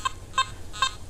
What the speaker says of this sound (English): Clicky noise.